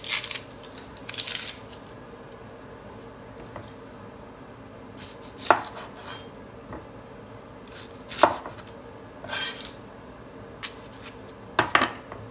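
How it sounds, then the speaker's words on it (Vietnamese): An onion is chopped with a knife on a cutting board in a home kitchen: a series of sharp, irregular chops and knife taps, close and clear, with no talking. "cắt hành trước đi"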